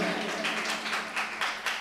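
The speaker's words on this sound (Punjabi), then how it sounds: "ਖੁੱਲ੍ਹ ਕੇ ਜਾ ਦਿਓ ਤਾੜੀ ਜਰਾ" An audience at a singing audition claps in a brief, moderate burst of applause, fairly close, with some voices mixed in.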